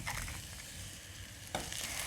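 Mushrooms searing in a hot pan with a pinch of salt and pepper, giving a close, steady sizzle with a brief louder crackle partway through.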